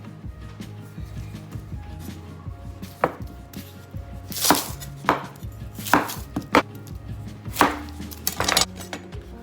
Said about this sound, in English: start off with dicing an onion